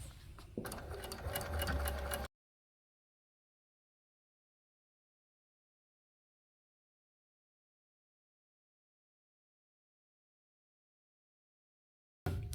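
Sewing machine running steadily while stitching small fabric squares with a 3/8 inch seam allowance, a close, rapid mechanical whir lasting about two seconds before the sound cuts out, then a brief return at the very end.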